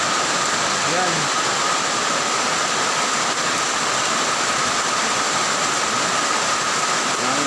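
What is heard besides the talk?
heavy rain pouring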